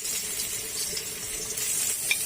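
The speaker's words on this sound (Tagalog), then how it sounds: "Ngayon, magtusta naman ta ng bawang." Garlic and onion toast in a hot pan with a loud, continuous sizzle and a faint stirring scrape near the end, with no talking.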